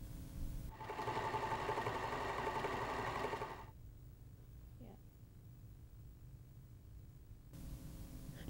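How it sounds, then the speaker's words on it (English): A Pfaff Expression sewing machine runs a row of fun cross stitches, a steady close whirring burst of about three seconds, then stops, with a quiet voice speaking after it. "Sew a row of cross stitches."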